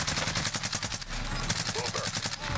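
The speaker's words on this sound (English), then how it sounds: "You're getting shot from the other team" Enemy gunfire in Warzone: a dense, rapid automatic burst rattles nonstop at close range, steady and loud throughout with no pauses.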